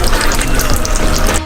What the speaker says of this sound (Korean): 물 100ml를 부어요.